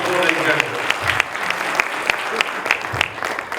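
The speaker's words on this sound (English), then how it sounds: "give me a big round of applause" A live audience gives a hearty round of applause at a motivational talk on becoming a millionaire, steady dense clapping with a few sharper claps standing out, mixed with some voices underneath.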